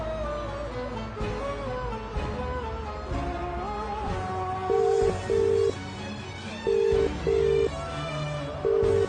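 An outgoing telephone call rings with a steady series of pulsed ringback tones in the second half. Background music plays underneath.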